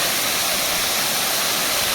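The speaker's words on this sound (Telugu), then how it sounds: "సో గండాత్రి వాటర్ ఫాల్స్ ఎంత అద్భుతంగా ఉందో" The Gandatri waterfall on the Odisha border pours down in a forest with a dense, unbroken roar of falling water, loud and close, filling the whole moment with no other sound.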